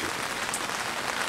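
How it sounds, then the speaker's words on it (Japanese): Rain patters steadily on a three-season tent while winter camping in sub-zero cold, a dense, even hiss of drops close overhead with no break. "しかも雨も全然止んでくれへんし。"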